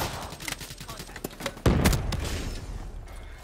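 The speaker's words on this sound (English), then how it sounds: "I heard a lot of shots when I was shooting the UAV out" Gunfire in a Call of Duty: Black Ops III multiplayer Domination match on the Combine map, with scattered rapid shots and one loud burst of fire that rings out, close and fairly loud.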